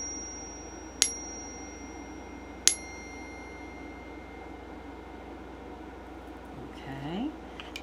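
A small bell is pinged twice a couple of seconds apart to open a ritual, each strike leaving a bright ringing decay in a quiet room, with faint voices near the end.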